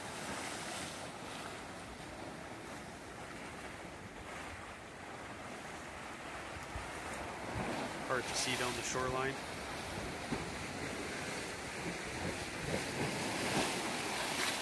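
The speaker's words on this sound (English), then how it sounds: "Still pretty windy here, lots of wave action." Surf and gusting wind on a beach at a Cuban resort in Holguin, a steady broadband wash of breaking waves with microphone wind rumble, while someone talks briefly over it.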